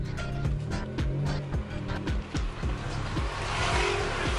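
A turbocharged Honda Civic FD driving, its engine revving in quick rising and falling bursts with loud close engine and road noise throughout.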